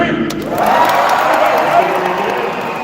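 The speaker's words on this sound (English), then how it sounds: "It's all up to your cheering. Let's give it a practice run on 3." A live audience at a SuperDogs dog show cheers loudly on cue, a dense roar of crowd voices and shouts rising quickly and holding steady for a few seconds.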